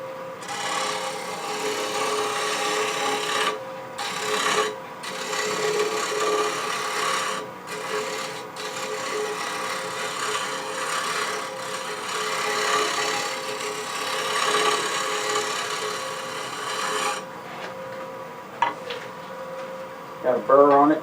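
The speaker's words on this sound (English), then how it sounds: "I'll do a little bit of shear scraping with this, and I'll probably switch to a shear scraper" A scraper tool shear scraping a dogwood bowl spinning on a wood lathe makes a steady raspy hiss of edge on wood over the lathe's hum, with short gaps as the tool lifts.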